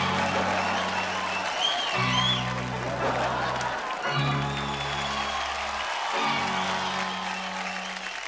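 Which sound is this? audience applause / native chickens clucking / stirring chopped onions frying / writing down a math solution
audience applause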